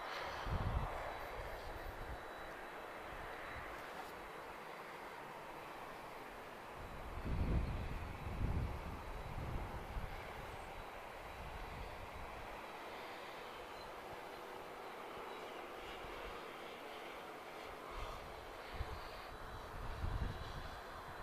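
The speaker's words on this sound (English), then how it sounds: "older sounding CF6 engines, guys, so you'll definitely hear this now as she taxis past us" Star Air jet airliner with older General Electric CF6 engines taxiing past at an airport, a steady broad engine roar and whine holding throughout with a few louder low rumbling swells.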